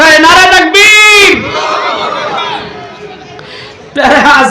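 A gathered crowd at a religious sermon answers a takbir call with loud, unified shouts, a raised leader's voice followed by a roaring collective response that fades, then voices rise again.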